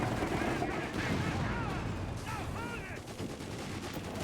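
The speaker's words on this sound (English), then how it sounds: "6-pounder gun bounces off the Stug's frontal armor." Artillery and small-arms fire in Company of Heroes 3, including a British 6-pounder anti-tank gun shot glancing off a StuG, as dense overlapping bangs and rumble run under steady commentary.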